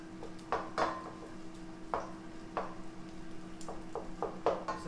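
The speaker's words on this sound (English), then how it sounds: "Let's give that meat another stir real quick." A utensil scrapes and taps against a pan while meat is stirred, a handful of short, faint knocks spread unevenly over a low steady hum, with no talking.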